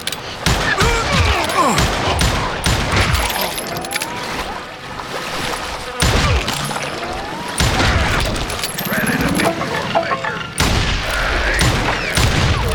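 Rapid gunfire in the Western shooter Call of Juarez: Gunslinger, with bursts of shots, booms and ricochets running almost continuously over a dense battle mix, under brief voice lines.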